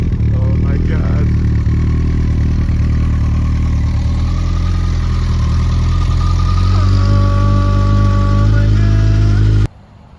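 Kawasaki ZX14 sport motorcycle engine runs loud and close at a steady idle with a deep rumble, a rev rising near the end before it cuts off abruptly; voices talk briefly over it.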